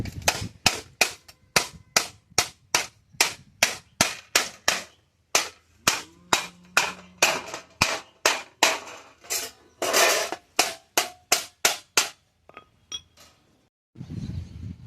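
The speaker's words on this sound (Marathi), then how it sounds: "हातोडीनं मी हे सरळ करून घेतो" A hammer pounds a cut piece of metal sheet flat, striking about twenty sharp, ringing blows in a steady rhythm, close and loud, then stopping before a short burst of other noise at the end.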